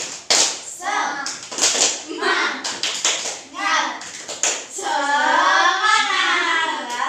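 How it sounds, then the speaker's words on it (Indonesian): Second-grade class performing a rhythmic clap chant, bursts of children's voices and hand claps in short groups, then sustained shouted chanting by the whole class at close range. "Tepuk semangat. Semangat."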